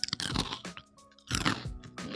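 Raw instant noodle chips are crunched close to the mic in loud, crackling bites. Two main bursts are separated by a brief chewing pause, with several smaller crackles. No one speaks.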